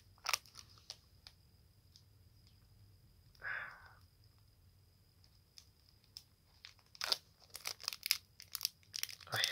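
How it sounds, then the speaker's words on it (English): A Yu-Gi-Oh card pack torn open close by: soft foil crinkles, a short rasping tear in the middle, then a busier flurry of crackling rustles near the end, all fairly quiet. "I hate opening packs like this"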